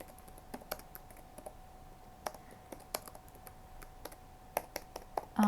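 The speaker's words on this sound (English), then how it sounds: "oh, I can't type" Typing on a computer keyboard: irregular, sharp key clicks tapped close by in short uneven bursts, with a faint steady hum underneath.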